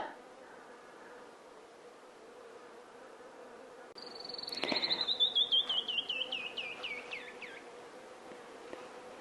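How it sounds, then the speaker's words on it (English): A low insect-like hum drones faintly in the background while a bird trills a descending series of chirps nearby. "if you listen closely, you can hear the hum of bees."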